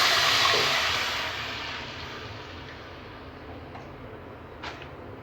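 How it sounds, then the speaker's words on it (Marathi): Water is poured into a pan of fried ingredients for baby upma, giving a loud splashing hiss at the start that fades into a steady softer simmering hiss, with one short clink near the end. "चांगलं फ्राय झाल्यानंतर त्यामध्ये 1 वाटी पाणी टाकूया. पाणी टाकले उकळून घेऊया."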